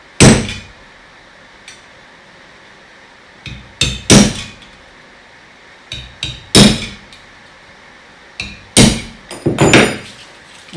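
A metal tool lightly knocks copper relief work on an old fireplace, a few separate sharp taps spread out, some in quick pairs, close and clear over a quiet room.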